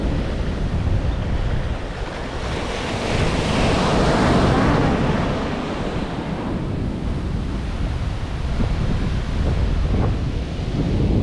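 Big ocean waves break and wash on a Maui beach, a loud, continuous roar of surf that swells and eases, with wind buffeting the microphone.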